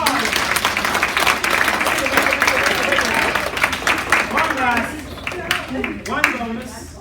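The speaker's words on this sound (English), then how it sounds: "give yourselves a round of applause" Audience applause at a nutrition talk for young athletes, dense steady clapping for several seconds that thins and tapers near the end.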